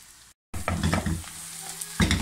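Onions and okra masala fry hard on a high flame, a loud, steady sizzle broken by bursts of spoon scraping and stirring, with a brief dead-silent gap near the start and a louder stir near the end.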